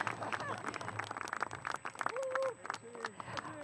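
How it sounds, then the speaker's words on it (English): Graduation audience at a school district ceremony clapping in a scattered, moderately loud burst while a speaker's voice carries over the hall. "Let's clap."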